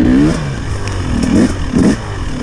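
A Husqvarna TX300 two-stroke dirt bike fitted with a Keihin PWK carburetor, revving close by in short throttle blips with a rich, gurgling burble between them.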